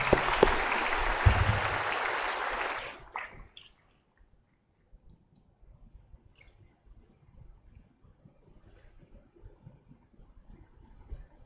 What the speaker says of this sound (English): So please give a round of applause for Professor N. Prabhu.